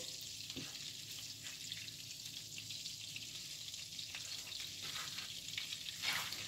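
Butter melts over low heat in a pan on an electric stove, giving a steady, soft sizzle and crackle with faint occasional scraping as it is moved around.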